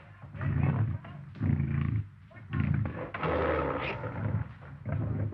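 A lion in a 1934 jungle serial gives a series of deep, rumbling roars in rhythmic bursts, loud and close with short pauses between, no one talking.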